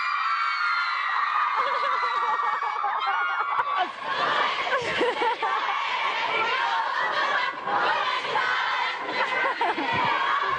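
A crowd of One Direction fans cheers and screams continuously, high shrieks and whoops forming a dense, loud, sustained wall of sound with laughter mixed in.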